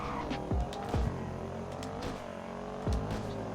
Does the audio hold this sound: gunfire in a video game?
no